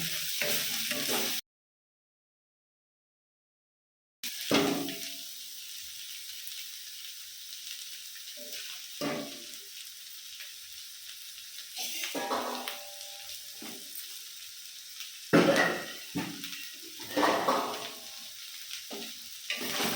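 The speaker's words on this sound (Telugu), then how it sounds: "ఇది కొంచెం మంచిగా ఫ్రై అయితేనే ముక్కలు ఉడకాలి కదా" Vegetables fry in a pan for street-style paneer fried rice, giving a soft sizzle with occasional stirring scrapes. The sound breaks off in a short silent gap and then continues faintly.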